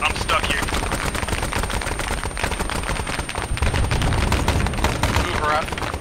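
Covering machine-gun fire in ARMA 3's Vietnam setting, a dense sustained rattle of rapid bursts that runs steadily for the whole stretch and is loud and close, with other battle noise and faint voices underneath.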